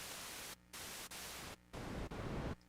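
Synth noise oscillator playing filtered noise that shifts from bright white noise toward darker pink noise, sounding in sustained bursts about a second long separated by short gaps, fairly quiet and with no voices.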